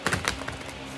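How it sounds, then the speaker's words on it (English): A deck of large tarot cards is shuffled in a quick burst of crisp, clustered taps and flicks, close and fairly quiet, fading to a soft hiss. "Let me shuffle these real quick."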